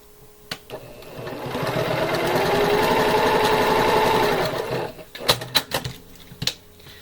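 A sewing machine stitches a quilt block along a marked corner line, running in one steady buzzing burst that swells and fades, followed by a few close clicks and knocks as the fabric is handled.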